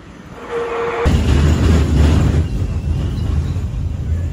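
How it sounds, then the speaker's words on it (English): A loud rumbling vehicle starts up after a faint tone and keeps going, a steady low rolling roar with rattling, like riding aboard a tram. "And now I'm gonna try to take the tram."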